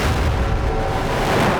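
A replayed 5,000-pound explosion makes a dense, sustained rumbling roar with heavy low-end energy that stays loud and steady through the whole stretch.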